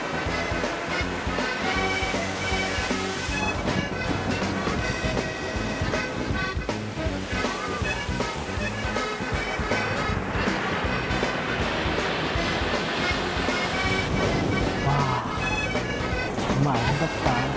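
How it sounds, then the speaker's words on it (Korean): Waves roll in from the Mozambique Channel in a loud, continuous surging wash along the shore, with wind rushing over it and a narrator speaking over the top. "모잠비크 해협에서 밀려드는 파도와 그 파도 소리에 취해 걷는 길."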